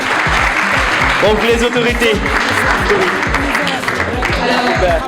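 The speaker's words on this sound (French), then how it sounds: "Sous vos applaudissements" Applause rises from an audience as officials are welcomed at a ceremony, a dense clatter of clapping mixed with rhythmic thumping music while someone speaks into a microphone.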